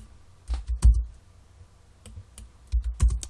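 Keys being typed on a computer keyboard while entering rotation values in 3D software, closing with an Enter press: two short bursts of close, sharp clicks separated by a quiet pause.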